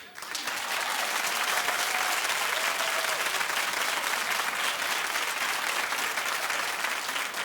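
A television talk show studio audience claps in a full, steady roar that rises quickly and continues evenly for several seconds, loud and close.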